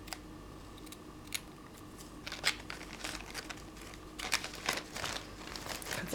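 Scissors snipping while making a Christmas ornament, a series of close, crisp cuts mixed with light crinkling of material, growing busier toward the end, with no voice.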